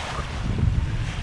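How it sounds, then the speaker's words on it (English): Steady northeast wind of about 15 knots rushes over a sailboat in the Caribbean, a dense, unbroken roar that stays even and close throughout. "We got northeast winds. They're kind of hanging around 15 knots or so."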